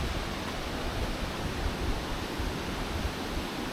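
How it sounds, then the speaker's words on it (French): A waterfall roars nearby on Mont Qinxing, a steady, dense rush of falling water that holds at one loud level throughout, with no voices over it. "ça se rapproche de la cascade là. On entend les bruits."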